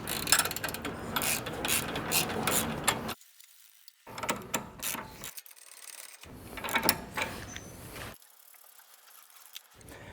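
Ratchet wrench snugging the bolts on a car's front lower rearward suspension arm, bursts of quick mechanical clicking separated by silent pauses, close and fairly loud.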